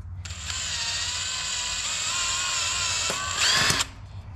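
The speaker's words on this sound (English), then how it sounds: "so we're gonna drill that on the small side." A power drill with a 110-thousandths bit bores a small hole during installation of a TransGo TF-2 transmission shift kit, giving a steady high-pitched whine for several seconds that rises briefly before cutting off, close and alone.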